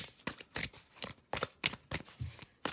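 Tarot cards shuffled by hand, a quick run of about eight crisp riffling bursts, close and fairly quiet, with no voices.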